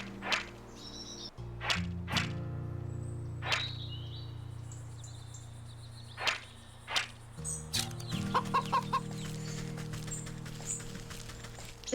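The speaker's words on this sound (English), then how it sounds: "Chickens! Oh, chickens! I love chickens." Chickens cluck and squawk now and then over a steady low hum. Sharp, whip-like cracks and scattered clicks are mixed in, and a burst of quick ticking comes near the end.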